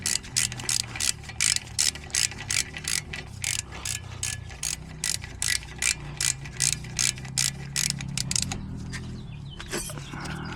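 A ratchet wrench tightens the brake caliper bracket bolts on a 2010 Jeep Patriot, rapid regular clicking in even bursts that slows and stops near the end, close and clear.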